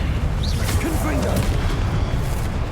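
A Confringo blasting spell explodes during Hogwarts Legacy gameplay, a heavy, continuous booming roar with whooshing layers, partly overlapped by voices.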